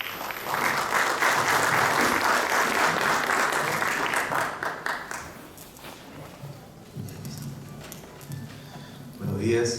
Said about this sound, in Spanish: lo recibimos igual con fuertes aplausos